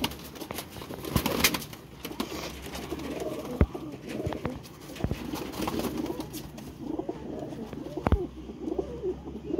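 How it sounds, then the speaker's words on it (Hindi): Pigeons coo softly and repeatedly at close range, with occasional sharp knocks and rustles in the background. "ये जोड़ा कबूतर ये कबूतर है"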